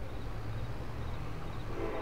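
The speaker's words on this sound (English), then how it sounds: "Oh, that train." A train passes in Farming Simulator 22 as a steady, loud low rumble of rolling rail cars, continuous throughout with no talking.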